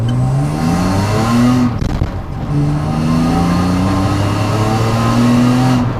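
A naturally aspirated drift car engine revs up and down repeatedly, its loud raspy exhaust note rising and falling in pitch, close and continuous.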